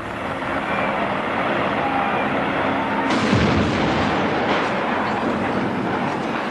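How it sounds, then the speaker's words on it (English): A building demolition blast set with dynamite and 230 gallons of gasoline for a film stunt: a dense, loud roaring rumble that surges into a deep low boom partway through, then rolls on as a sustained heavy roar. "the special effects team will enhance the blast by igniting 230 gallons of gasoline"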